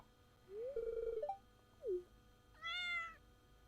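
A cat in the Stardew Valley video game meows about three times in quick succession: a longer gliding mew, a short chirp, then a brighter, harmonic-rich meow, each clear and close, with no talking over them.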